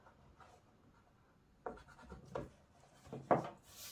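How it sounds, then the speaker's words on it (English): An eraser rubbing out pencil lines on paper during an architectural perspective sketch, heard as a few short, soft scrubbing strokes close by, faint and quiet. "Now let's erase this little extra."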